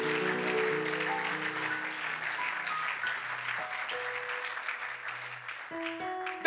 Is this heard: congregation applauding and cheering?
yes